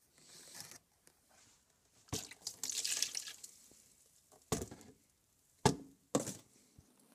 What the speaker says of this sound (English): we're going to dump the gross sandy water into the dump bucket